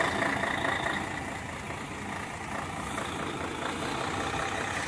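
Heavy truck engine rumbles steadily at a low, even drone during a heavy-vehicle driving-licence test manoeuvre in Saudi Arabia, close and continuous with no voices.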